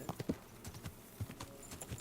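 Horse hooves clip-clopping in the medieval video game Kingdom Come Deliverance II, a quiet, uneven patter of hoofbeats over about two seconds with no talk.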